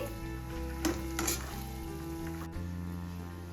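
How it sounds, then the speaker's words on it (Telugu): Peanuts frying in leftover oil in a pan after a vegetable fry give a steady close sizzle, with a couple of brief stirring scrapes and a humming background. "మిగిలిన ఆయిల్ ఉంటుంది కదండి దాంట్లో మనం పల్లీలు తీసుకున్నాం కదండి వేయించుకోవాలండి"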